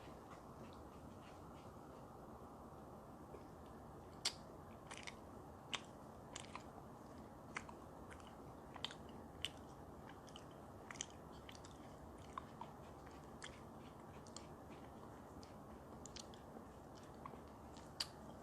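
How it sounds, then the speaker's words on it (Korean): Crisp, crunchy bites and chewing of Oreo cookie cheesecake close to the mic, sharp crackles repeating every second or so over a soft steady hiss, no talking. "쿠키가 바삭바삭 바삭 크런치한 느낌으로 입안에서 달달하게 사르르 녹는 느낌이 나요."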